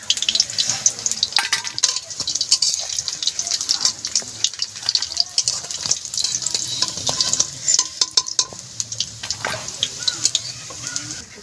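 Cauliflower fritters sizzle in hot oil in a pan, a continuous crackling fry broken by frequent sharp clinks and stirring scrapes, close by.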